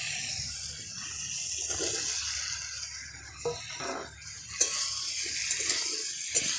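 Potatoes and pointed gourd fried in a spice paste sizzle steadily with a hissing, watery crackle, with occasional clinks and scrapes of stirring over the top.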